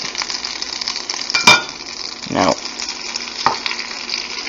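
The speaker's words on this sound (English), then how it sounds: "Now you're gonna want to fry this on both sides until it's golden brown" French toast fries in melted butter in a pan, giving a steady close sizzle with a few sharp clinks and scraping bursts from a utensil or pan handling.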